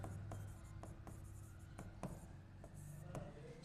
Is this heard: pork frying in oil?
no